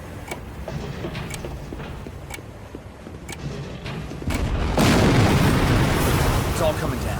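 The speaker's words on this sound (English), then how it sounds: "One more explosion should finish it." A large explosion in the Captain America: Super Soldier video game bursts in midway and rolls on as a loud, sustained rumble of debris, following a stretch of quieter clanks and background game noise.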